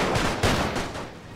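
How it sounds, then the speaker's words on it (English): Machine guns fire in the World War I strategy video game The Great War, a dense, continuous rattle of rapid shots lasting just over a second, loud and close with no talk over it. "The machine guns keep firing."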